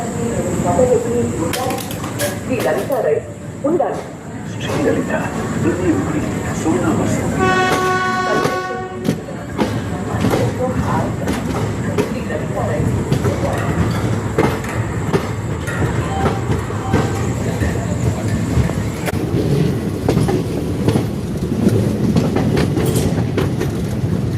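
A train pulls out from platform 3 at Tirupati railway station, with a steady rumble and rhythmic clickety-clack throughout, a short horn blast partway through, and faint voices in the background.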